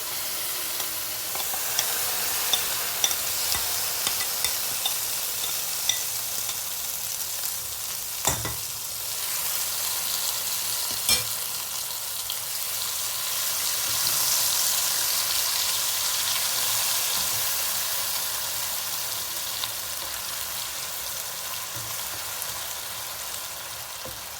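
Fried pieces of murrel fish sizzle steadily in hot oil, a dense continuous crackle close by, with occasional louder pops and stirring clatters and no talking.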